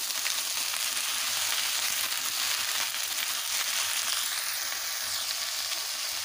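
Taro stolons (kochur loti) fry in hot oil with spices, giving a loud, steady, hissing sizzle that runs unbroken throughout, with faint stirring scrapes and no talking.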